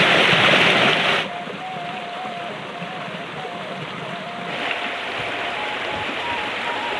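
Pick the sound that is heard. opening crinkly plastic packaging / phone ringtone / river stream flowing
river stream flowing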